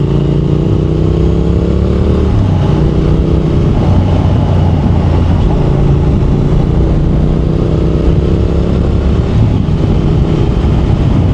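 A Triumph Thruxton R 1200 motorcycle engine pulls hard under acceleration, loud and close, its rising drone stepping through gear changes around a steady throbbing exhaust note, with no voices.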